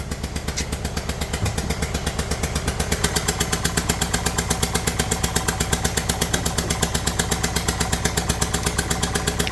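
Close, loud idle of a Kia Sportage 1.7 diesel with a leaking injector: a fast, even knocking clatter that runs without a break and is heard alone.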